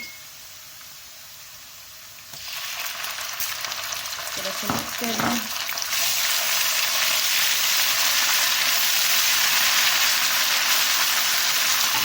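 Onions sizzle and fry in a pan as ginger and garlic paste is added and stirred in, a steady close hiss that swells louder after a few seconds, with brief stirring clatter and a quiet spoken voice.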